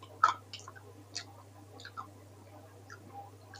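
Quiet, close crunching as someone chews crispy fried banana fritters (pisang goreng): a sharp crackly bite, then softer intermittent chewing.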